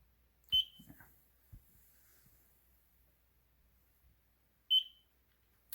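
Two short, high electronic beeps spaced about four seconds apart, with faint scattered clicks and rustles in a quiet room between them.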